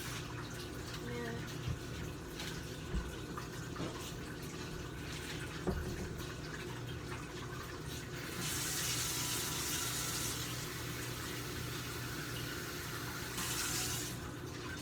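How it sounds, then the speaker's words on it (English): Water poured from a container into the bottom of a crock pot holding frozen chicken breasts, a steady close splashing pour in a kitchen running for several seconds alongside background household noise. "about a cup of water. It's just gonna go in the bottom of my crock pot."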